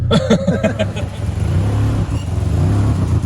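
A supercharged car engine with a big cam revs up close and loud, with lumpy pulsing blips at first and then a steady throbbing idle.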